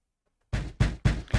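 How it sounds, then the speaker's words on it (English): Four heavy, evenly spaced thuds of a fist pounding on a door break a brief silence, each blow sharp and close. "A pounding on the door woke me up."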